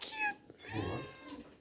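A kitten in a basket gives a couple of short, high, clear meows close by, one after another, with a brief pause between them.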